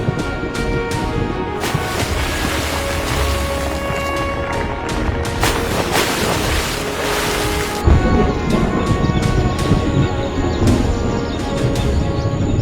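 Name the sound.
thunderstorm with rain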